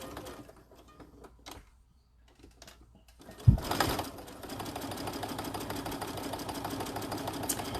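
A sewing machine stitching fabric for a lip balm key ring: a few seconds of near quiet, a sharp knock, then a steady, close mechanical whir that runs to the end.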